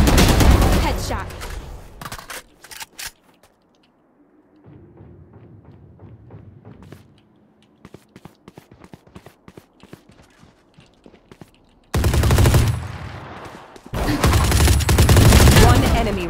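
Gunfire in the tactical shooter Valorant: a loud close burst of automatic shots opens, then quieter footsteps and scattered thuds, followed by two more loud bursts of rapid fire near the end.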